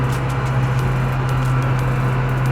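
A McCormick X6.413 P6-Drive tractor engine drones inside the cab with the PTO running at 1000 rpm, a steady low hum with a strong tonal note, loud and constant throughout with no talk.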